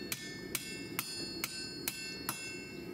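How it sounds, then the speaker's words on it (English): Hammer blows straightening a high-carbon steel coil-spring workpiece at a forge, six sharp ringing strikes at a steady, unhurried pace, fairly quiet and close with no talk. "Now we can finish the straightening with our hammer."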